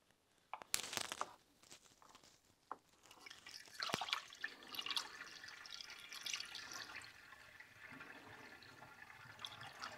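Coolant is poured into the cooling system of a barn-find Škoda 105, a faint gurgling trickle of liquid with a few sharp splashes and knocks early on, then a quieter steady glugging flow.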